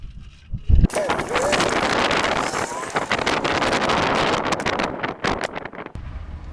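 Gusty wind buffets the microphone at an outdoor rifle range in a loud, roaring rush that holds for several seconds, then drops off abruptly.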